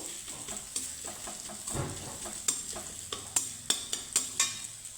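Grated ginger sizzles in a pan while a spoon stirs it, soft frying hiss broken by several sharp scraping clicks near the end, close and fairly quiet, with no talking.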